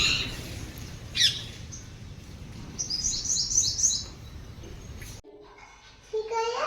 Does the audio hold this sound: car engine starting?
no